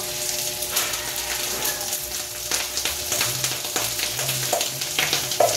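Garlic fried rice (sinangag) frying in a pan, a continuous close sizzle with small crackles and occasional stirring scrapes, no talking.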